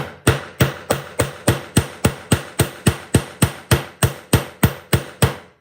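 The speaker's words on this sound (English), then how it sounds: "You love the hammer sound." A hammer flattens jewelry wire with about sixteen sharp, evenly spaced strikes, each a loud close metallic tap with a short ringing decay, keeping a steady rhythm from start to finish.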